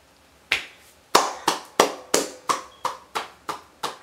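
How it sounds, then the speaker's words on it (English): Nine sharp hand claps ring out at an uneven, slightly quickening pace, crisp and close with short decays, in a quiet room with no talking. "I'm just clapping it up for y'all"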